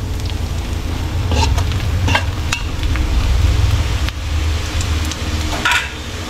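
Garlic and onion fry toward golden brown, a steady close sizzle with occasional stirring clinks and scrapes against the pan.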